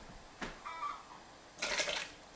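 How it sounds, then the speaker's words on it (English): A quarter cup of water poured into a soy sauce marinade in a home kitchen, heard as a short, splashy burst after a few faint clinks and handling sounds. "Next, I'm going to be adding a 1/4 cup of water."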